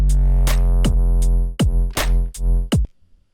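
Deep, heavy 808 bass notes chopped into choppy bursts, with gliding pitch drops and sharp cutoffs, loud and booming before it ends abruptly.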